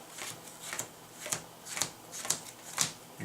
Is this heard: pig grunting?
no